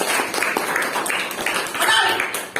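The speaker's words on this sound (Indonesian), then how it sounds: "Bisa kasih tepuk tangan dulu Bapak Ibu Saudara" Church congregation clapping hands during a Sunday service, a dense roomful of claps with some individual hand strikes standing out, continuing for nearly three seconds with faint voices mixed in.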